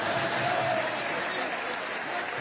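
An Indian community audience in Nigeria applauds at a prime minister's speech, a dense, steady wash of clapping at moderate loudness lasting the whole moment, with no speech over it.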